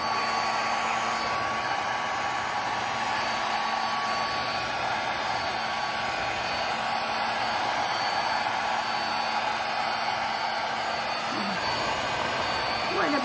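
A hair dryer blows steadily on a pet dog, a constant whooshing hum close by and unbroken, with a voice speaking softly beneath it.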